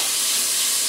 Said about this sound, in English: Get those in there and searing.